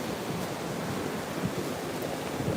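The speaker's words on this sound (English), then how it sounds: "Newport Beach is beautiful, isn't it? But that's the the Pacific Ocean" Broad, steady wash of Pacific Ocean surf at Newport Beach, a continuous hiss of breaking waves with soft swells and some wind across the microphone, no voices.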